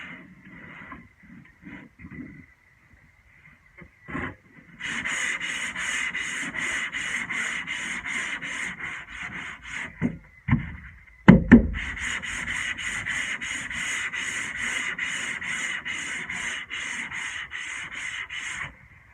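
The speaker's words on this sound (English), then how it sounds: "once you break through that skin, the sandpaper just rips" Steady rhythmic hand sanding with sandpaper, repeated rasping back-and-forth strokes, close and loud, broken by a brief pause with a few knocks before the scrubbing resumes.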